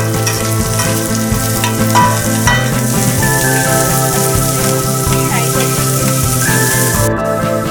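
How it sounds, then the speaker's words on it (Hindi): Finely chopped onions frying in hot oil for stuffed paneer kulcha. The sizzle is loud, dense and continuous, with occasional stirring scrapes, close up and unbroken for several seconds. "अब हमारा तेल हीटअप हो चुका है। अब हम इसमें बारीक कटे हुए प्याज डाल रहे हैं।"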